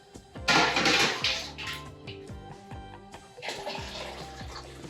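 Water pours steadily into a brew pot for extract beer brewing, a bright splashing rush that rises and tapers, with some clinking and faint background noise.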